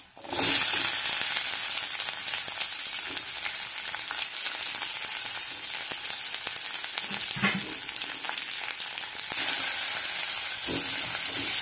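Small shallots and cumin sauté in hot oil for manathakkali keerai poriyal, giving a loud, continuous hiss that holds steady throughout, broken only by a few soft stirring scrapes.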